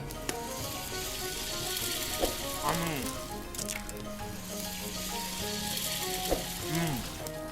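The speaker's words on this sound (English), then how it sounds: "Keep cooking this in the frying pan at a very low heat so the eggs don't burn on their bottom side." Steady sizzling of eggs frying in a pan, with occasional soft pops and faint background voices now and then.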